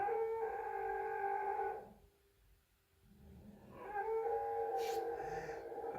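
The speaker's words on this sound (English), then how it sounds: "what is this dog's problem?" A dog whines and howls in long, sustained tonal cries that fade out, fall silent for about a second, then return, moderately loud and fairly close indoors.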